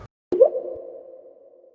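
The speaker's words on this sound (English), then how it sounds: "A drip," A single water drip sound effect: a sharp plop with a rising pitch, ringing out briefly and fading, alone.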